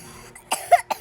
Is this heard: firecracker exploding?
no